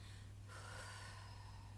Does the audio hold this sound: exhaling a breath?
yes